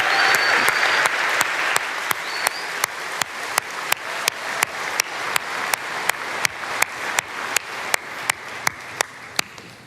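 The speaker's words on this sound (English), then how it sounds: "How about a huge round of applause for our friends at Cirque?" A large keynote audience applauds the Cirque performers at Microsoft Build 2017, a dense, sustained wash of clapping that holds steady for the whole stretch and slowly tapers, punctuated by regular sharp clicks.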